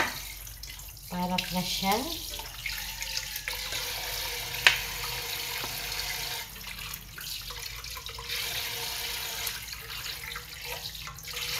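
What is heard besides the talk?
washing fresh bangkulis fish under running tap water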